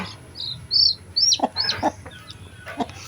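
Mother hens cluck softly near newly hatched chicks, whose high chirps and peeps come in short repeated calls close by, with no talk.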